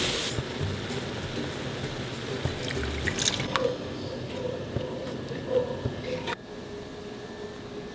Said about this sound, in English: After you've cooked off the raw flavor, go ahead and gradually whisk in 2 cups of whole milk.